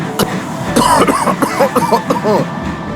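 A voice performing a character's coughing fit as part of a spoken railway story, a short burst followed by several raspy hacks, close and clear.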